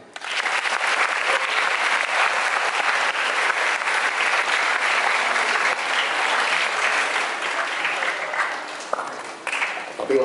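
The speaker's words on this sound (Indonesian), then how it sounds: "Tepuk tangan." Audience applause fills a formal education council address, steady dense clapping throughout, loud and continuous, tapering slightly near the end.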